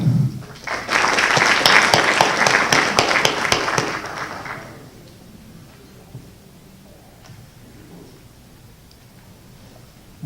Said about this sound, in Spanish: Recibimos con muy fuertes palmas al doctor